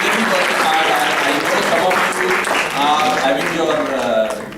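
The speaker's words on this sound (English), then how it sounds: "may I request you to please give a round of applause to our young and bright engineers" Sustained audience applause at a Hyperloop transport conference, greeting young engineers: steady dense clapping throughout, loud and fairly close, with voices audible in the crowd.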